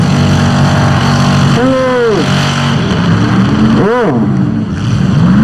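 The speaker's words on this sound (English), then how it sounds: "just screaming that motor, trying to get that car broke loose" A demolition derby car's engine is revved hard at a Winnipeg speedway, a loud sustained roar that twice sweeps up in pitch as the motor screams, with crowd noise and a short voice over it.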